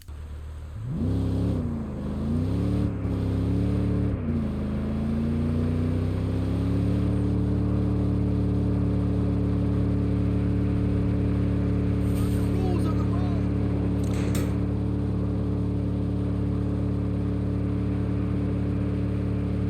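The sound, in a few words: car engine stuck in 4th gear, video game Saints Row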